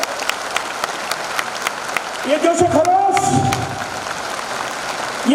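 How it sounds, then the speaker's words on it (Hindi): Hall audience clapping for an organiser named Raju at a community political convention in Patna, a steady patter of applause throughout as someone speaks over it on the microphone. "आगे ताली बजाइए राजू जी के लिए।"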